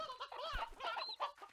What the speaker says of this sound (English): Let's get 2 chickens and a rooster.